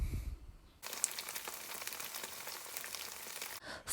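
Tofu browning in a hot pan for braised tofu with tomatoes, giving a steady, even sizzle with faint crackles that runs for a few seconds after a brief quieter start, alone without talk.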